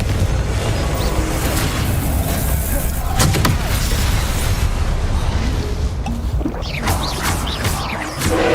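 Confringo spell blasts from the Hogwarts Legacy video game, loud and close, with sharp impacts and crackling debris over a dense, constant rumble of combat noise.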